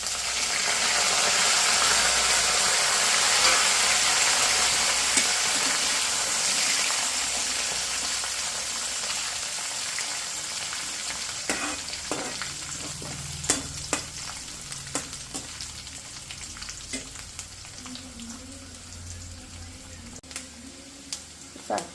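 Onion and curry leaves frying in oil for a bilimbi pickle: a loud, hissing sizzle that gradually softens, then gives way to scattered sharp clicks and taps of stirring against the pan.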